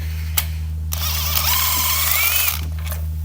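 Ratchet wrench removing a spark plug from a 2012 BMW 550i, a short click then a longer buzzing run of fast ratchet clicks close up over a steady low hum, without speech.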